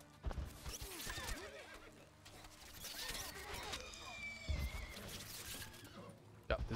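Horses carrying riders in the Stronghold Warlords strategy game, with a whinny, snorts and clopping hooves, moderately close, under a short shouted command and busy battle ambience.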